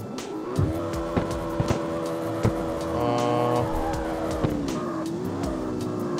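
Car from the CarX Street racing video game driving with a steady engine drone, shifting pitch as it accelerates, punctuated by short tire squeals and skids; no talking.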